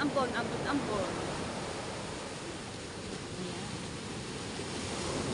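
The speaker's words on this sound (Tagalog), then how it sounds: "Ito na, ambon." Light drizzle begins outdoors as a soft, even hiss that holds steady throughout, with a voice heard briefly at the start.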